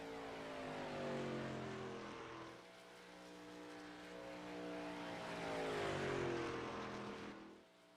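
The number 52 Toyota Tundra race truck runs a timed lap below full throttle, its engine note rising and falling in pitch as it passes through gear changes, heard at a distance and fairly faint.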